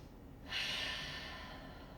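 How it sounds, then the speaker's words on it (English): A single deep breath during a yoga session, a close, soft airy exhale that starts suddenly and slowly fades, with no talk. "Take a few breaths."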